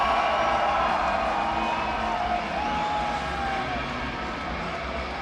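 Arena crowd at the Red Bull X-Fighters freestyle motocross final in Calgary roaring and cheering continuously, a loud sustained wash with whistles and horn-like tones riding on top.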